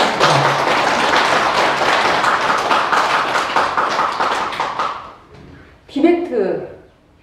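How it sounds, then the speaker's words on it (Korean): A Won Buddhist temple congregation claps in a brief, lively burst of applause that dies away after about five seconds, followed by someone speaking. "박수 한번 가주십시오."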